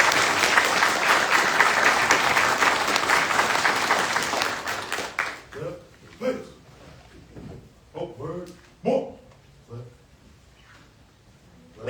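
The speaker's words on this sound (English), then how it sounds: "Please join me in a round of applause for their hard work and dedication." Full, sustained audience applause at a U.S. Army Drill Sergeant Academy graduation fills the first five seconds, then fades as a voice speaks over the hall's quiet.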